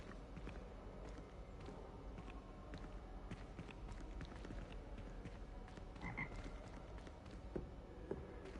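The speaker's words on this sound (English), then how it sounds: "And I hear frogs." Frogs croak continuously in a Hogwarts Legacy game environment, a dense steady chorus with occasional footstep-like thumps, no talk over it.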